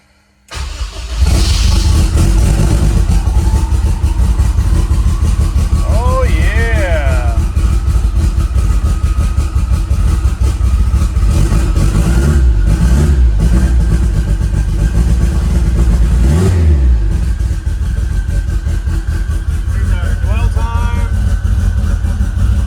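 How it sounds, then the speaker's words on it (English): Honda S2000 fitted with smart coils cranks over and catches, then settles into a steady, close, loud idle that holds throughout, with a few brief rising tones riding over the engine. "let's crank her up here and see how she idles"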